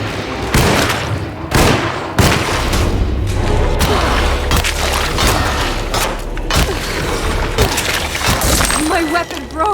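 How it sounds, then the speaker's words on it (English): A weapon shatters in the Alone in the Dark remake amid a chaotic fight, with heavy thuds, cracking breaks and smashing impacts hitting in quick irregular succession, loud and close, while a voice speaks over the action. "My weapon broke!"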